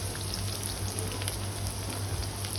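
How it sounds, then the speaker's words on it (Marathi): Onion frying in oil with mustard seeds and cumin for tomato shev bhaji produces a steady, close crackling sizzle with small pops, even in level and without any talk. "कलर चेंज होईपर्यंत आपल्याला कांदा व्यवस्थित असा फ्राय करून घ्यायचा आहे।"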